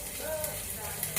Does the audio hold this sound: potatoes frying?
yes